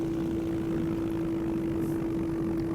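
Steady propeller engine drone of a Cessna 152 light aircraft in a flight simulator game, a constant close hum with a strong single tone, continuous and alone without talk.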